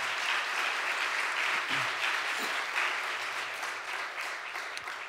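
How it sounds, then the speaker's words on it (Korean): A church congregation claps steadily for several seconds, a broad, even wash of applause at moderate level that tapers slightly toward the end, with no talking over it. "우리 하나님께 큰 박수로 영광을 올려드리십시오."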